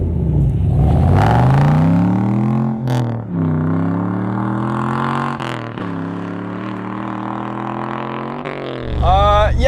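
Inside an LS-swapped, right-hand-drive Nissan 350Z, the V8 rumbles loud and steady, its tone climbing and falling through gear changes with a sharper rev flare at the end, while people talk over it.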